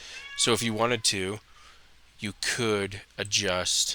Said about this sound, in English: Now you can probably hear my cat meowing.